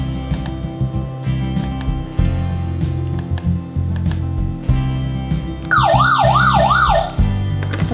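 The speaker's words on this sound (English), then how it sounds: "Besides, it also integrated the siren and the warning light." The siren of a Senken TBD80 smart police lightbar starts up with a rising and falling wail, loud and close, over heavy low rumbling and clunking noise.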